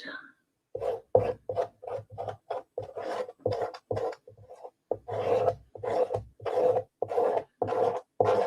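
Chalk Couture chalk paste scraped across a stencil in a quick series of short, rasping strokes, close and fairly loud, each stroke a separate scratchy swipe with brief pauses between.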